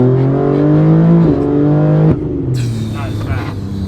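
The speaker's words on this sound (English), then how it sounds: "That was third gear. Yeah, third gear pull." An 880 whp BMW G80 M3 with the tuned S58 engine pulls hard in third gear, its loud droning engine note climbing, dipping at a shift, then continuing to rise from inside the cabin.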